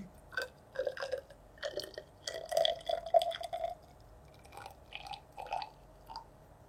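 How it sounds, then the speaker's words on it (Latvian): Water is poured into a container on a scale in a chemistry lesson, producing a string of gurgling, splashing pulses that come and go in irregular bursts. The sound is faint and close, with no talking. "Un tā, liešu ūdeni."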